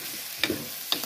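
Potatoes stirred in a pan over a quiet sizzle, with two short spatula scrapes about half a second apart.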